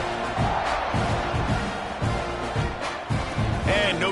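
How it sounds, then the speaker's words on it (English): Stadium crowd at an NCAA college football game buzzing after a score, a steady dense roar of many voices with scattered louder shouts and thumps throughout. "this crowd is buzzing after that last score"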